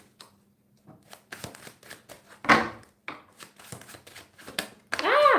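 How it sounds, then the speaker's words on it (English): A new deck of tarot cards being shuffled, with a run of crisp riffling and slapping bursts of varying loudness, one sharper flurry near the middle and a dense riffle at the end, close up with no talk. "This is a new deck for me, and I'm getting used to shuffling it."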